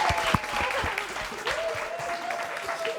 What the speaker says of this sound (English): Everyone clap them.